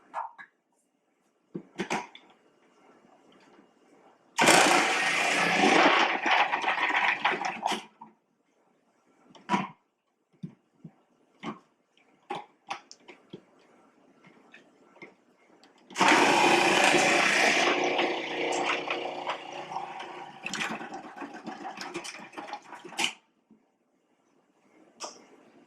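A food processor grates sweet potatoes in two loud whirring bursts of several seconds each, separated by quieter clicks and knocks as pieces are fed through the chute.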